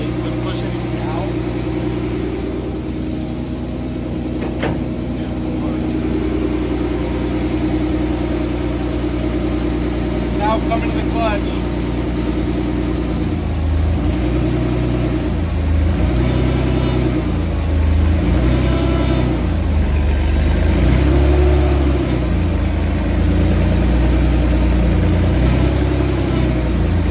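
A Bandit 250XP wood chipper engine runs loud and steady, its low mechanical drone holding throughout and shifting in tone partway through as the revs change.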